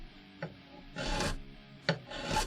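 A crowning file rasps across guitar frets on a cheap guitar in three short strokes, each a dry scraping rub, close and fairly quiet, with brief pauses between.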